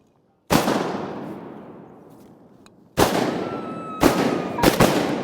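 Shotgun blasts while hunting mallards in Arkansas flooded timber: a loud close shot with a long decaying echo through the trees, then three more sharp shots in quick succession.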